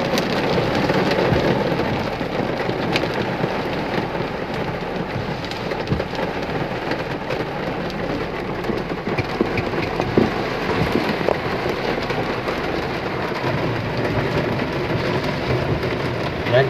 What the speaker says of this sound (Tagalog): Ayan, inaabot tayo ng ulan.